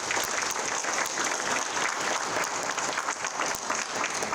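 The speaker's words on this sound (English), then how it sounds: "I think he deserves a round of applause." A crowd at a talk breaks into sustained applause, a dense wash of many hands clapping steadily at moderate volume for several seconds with no speech over it.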